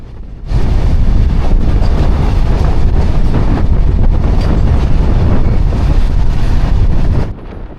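The 12321 Howrah–Mumbai Mail passenger train runs on rails at night, a loud, steady rumble and roar with heavy wind buffeting close to the microphone, lasting several seconds before dropping away, no voices.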